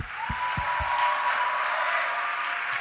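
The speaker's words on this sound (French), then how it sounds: "Toute l'église l'acclame." A church congregation applauds and cheers during a worship service, with dense, sustained clapping filling the room at an even level, punctuated by a few low thumps near the start.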